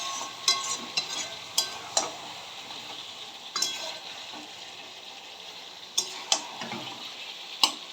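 Chicken curry with potatoes stirred and fried in a pan, a low steady sizzle broken by sharp clicks and scrapes of a spoon against the pan, closely heard and without speech.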